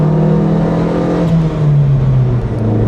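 A Ford Fiesta Mk1 with the 950 Valencia engine revs up while driving, a loud continuous in-cab engine drone whose pitch climbs and holds steady, with no voices.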